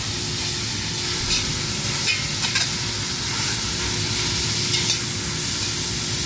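Continuous soft hiss and bubbling of bottle gourd halwa cooking in a pan on a low flame, with faint stirring scrapes now and then, steady and close, no talk.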